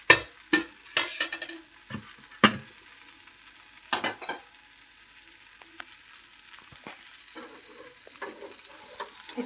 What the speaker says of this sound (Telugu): దోశ వేసుకోవాలి ఫస్ట్. తర్వాత ఆయిల్ వేసుకోవాలి కొంచెం.